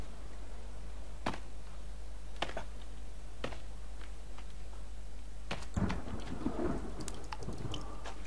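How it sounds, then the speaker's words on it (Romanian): Steady rain with thunder in the survival video game The Forest: a constant hiss of rainfall with sharp cracks of thunder every second or two, then a rumbling, crackling burst toward the end. "Perfect, a început și ploaia."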